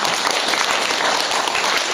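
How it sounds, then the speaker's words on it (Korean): An audience at a church seminar breaks into dense, continuous applause, loud and close throughout as the next group is welcomed forward. "박수로 맞이합니다."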